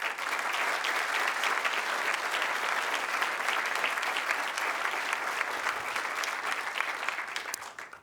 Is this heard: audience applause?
yes